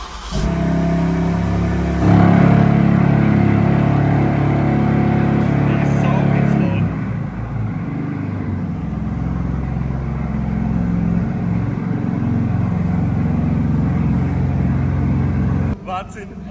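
A modified BMW M2 engine, freshly broken in at about 2000 kilometres, rumbles loudly and steadily on a test drive, swelling briefly early on, then easing to a quieter drone before cutting off near the end.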